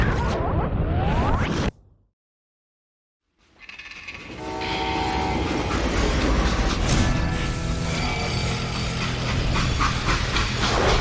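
A freight train in the Western game Call of Juarez: Gunslinger rumbles and clatters loudly, with a horn-like blast and hissing steam, cutting to silence briefly before the rolling rail noise returns steady and close.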